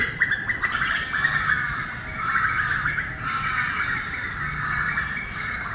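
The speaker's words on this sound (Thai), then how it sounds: "มีเสียงนก นกอยู่อาศัย นกก็จะร้องตลอดเลยนะครับ" Birds chirping and calling continuously in the background of a dense temple forest, with shrill, repeated squeaky notes over a steady outdoor hiss.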